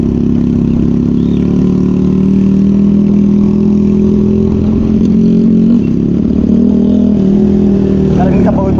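A motorcycle engine drones loudly and continuously nearby, its pitch rising slightly as it revs, with voices talking underneath.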